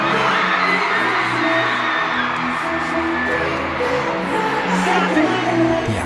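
A dense concert crowd waiting for a show cheers, whoops and shouts in an unbroken roar, loud and close, with scattered high screams and voices singing along.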